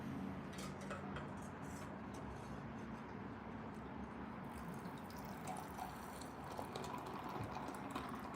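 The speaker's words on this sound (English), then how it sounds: "We got our glass here. We're gonna pour it up." Fresh juice pours into a glass as a quiet, steady liquid trickle and splash, faint and close, with no talk.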